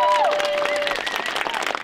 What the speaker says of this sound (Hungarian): úgyhogy én szeretnék kérni nekik egy nagy tapsot